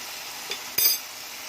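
Minced keema that has been frying in a pot, a low steady sizzle broken by one short scrape of a spoon stirring it, no talking.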